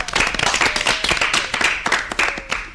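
An audience at a school children's programme claps for a student's story, a dense, lively round of hand claps with scattered sharp individual claps throughout.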